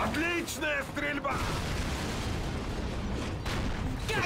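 Tank guns fire in the video game Call of Duty (2003), with two heavy booming shots spaced a couple of seconds apart after a brief spoken line, and a rumbling battle din between them.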